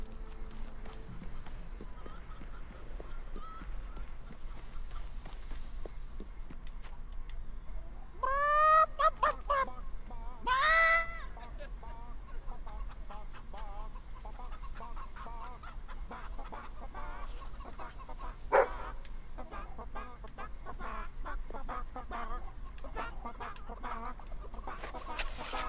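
Chickens in the video game Fable 3 cluck and crow over a steady ambient background, with a couple of louder squawking bursts partway through and scattered softer calls throughout.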